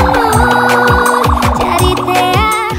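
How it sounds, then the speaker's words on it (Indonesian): A toy police siren wails loudly in a fast repeating electronic pattern, with a warbling tone cycling over and over without pause. "kalau yang ini mobil polisi patroli"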